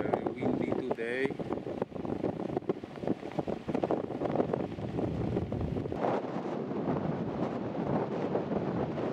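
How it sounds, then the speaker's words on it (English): Strong wind buffets the microphone at Himatangi Beach, New Zealand, a constant loud rumble and roar that goes on without a break, with a voice partly heard through it. "Very windy today."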